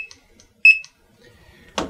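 A barcode scanner gives one sharp electronic beep as it initializes, with a couple of faint chirps around it, followed by a brief clatter near the end.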